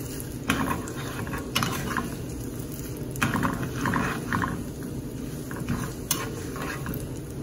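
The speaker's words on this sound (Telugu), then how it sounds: "ఇట్లా తిరగమంత వేగాక మనకి చిట్టుపట్టమని శబ్దం వస్తుంది" Tempering frying in a pan for Andhra-style gongura (sorrel leaf) chutney with dried red chilli, a steady low sizzle and crackle with sharper pops and occasional scrapes of a ladle against the pan, fairly close and continuous throughout.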